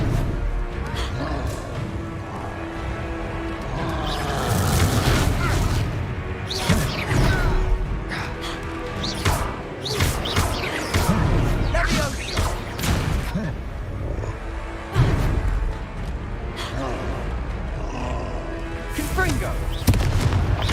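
Fire-blast spell explosions from the Confringo curse in Hogwarts Legacy boom repeatedly in heavy, crashing bursts amid continuous combat noise, with voices shouting over the blasts.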